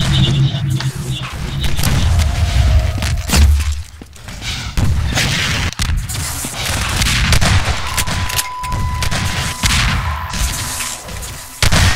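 Rapid bursts of gunfire from Half-Life 2 Deathmatch, with dense, overlapping volleys and booming impacts running nearly continuously at close range.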